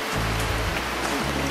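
Heavy rain pounds a shed roof covered only in polycarbonate sheeting, a dense, loud, continuous roar with a low drumming underneath, and no voices.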